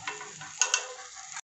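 Gingelly oil poured around a bottle gourd adai in a pan crackles and sizzles faintly for a second or so, with a couple of sharp pops before it cuts off.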